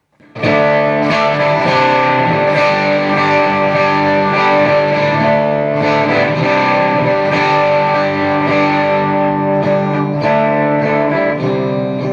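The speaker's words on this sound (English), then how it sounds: "And now with Mojo Mojo overdrive." Electric guitar played through a Mojo Mojo overdrive pedal, a warm, crunchy distorted tone with sustained chords and notes, loud and continuous with no talking.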